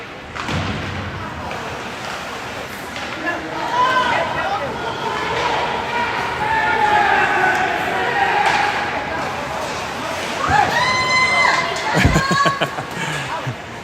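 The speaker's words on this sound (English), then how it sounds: "Got some screams coming on from the Hornets side." Hockey fans at a youth game scream and cheer in a large rink, a loud sustained crowd roar with shrill shouts rising near the end.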